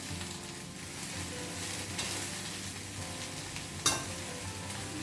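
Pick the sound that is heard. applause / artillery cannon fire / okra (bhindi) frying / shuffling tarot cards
okra (bhindi) frying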